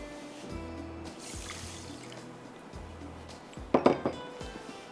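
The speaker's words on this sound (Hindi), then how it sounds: "चीनी के अंदर हम पानी डालेंगे" Water poured onto sugar to make sugar syrup, a soft trickle over low background hum, ending in a short cluster of bright clinks and splashes near the close.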